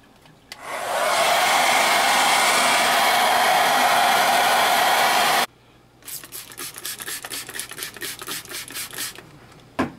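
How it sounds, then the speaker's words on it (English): A hair dryer roars steadily at close range for several seconds, then cuts off, followed by rhythmic rubbing or filing strokes. "hit it with a hairdryer for a little bit"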